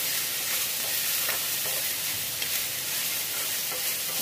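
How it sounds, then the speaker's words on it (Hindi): Tomatoes and garlic cloves fry in a pan for a momo chutney, giving a steady, close, broadband sizzle that runs without a break, with faint stirring scrapes and no voices. "जब तक टमाटर हमारे अच्छे से सॉफ्ट नहीं हो जाए, तब तक हम इनको फ्राई करते रहेंगे।"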